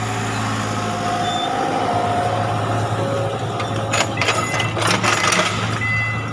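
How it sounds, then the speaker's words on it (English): A loud, noisy truck with air brakes on a street in Cambodia rumbles nearby with a steady engine drone, clanking mechanical rattles and bursts of hissing brake noise toward the end, with no talking. "loud noisy truck over here"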